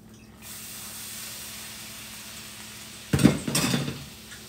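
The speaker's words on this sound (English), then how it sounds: "I deglaze it first." Liquid goes into a hot skillet where an egg was just cooked, raising a steady hiss, then a pancake turner scrapes across the pan in two short, louder bursts near the end, close and with no talking.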